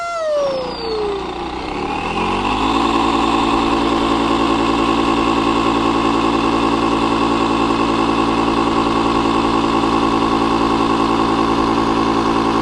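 A Flextail Evo electric pump inflates a kayak, running as a loud, steady motor drone with a rising whine that settles into an even hum, close by and alone.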